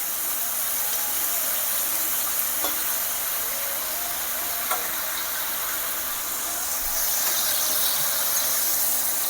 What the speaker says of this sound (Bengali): এইভাবে সবগুলো এক এক করে পনির ভেজে নেব